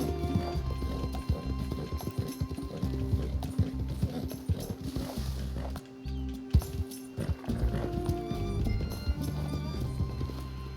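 Horse hooves clip-clop in a steady rhythm as a rider moves along in Red Dead Redemption 2, over a continuous low game soundtrack, with one brief dip in the middle.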